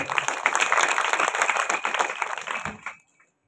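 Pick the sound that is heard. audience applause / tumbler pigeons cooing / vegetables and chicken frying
audience applause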